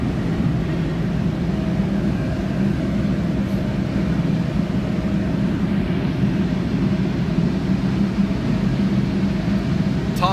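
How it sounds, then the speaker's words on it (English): Steady, broad roar of a glassblowing glory hole furnace during a reheat, a constant rumbling whoosh that holds at even loudness for about ten seconds with no speech. "back into the glory hole for another reheat"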